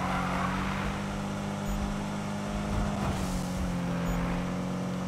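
Cars racing in the Need for Speed video game, set in Ventura Bay: a steady loud engine drone with a car whooshing past close by midway, no voices.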